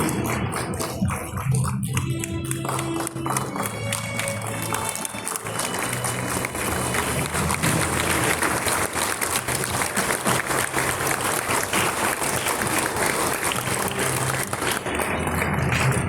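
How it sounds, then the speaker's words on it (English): A seated audience at a National Sports Day award ceremony applauds a gold medal winner, with steady, dense clapping sustained throughout at fairly loud level. "Round of applause for John Borlang."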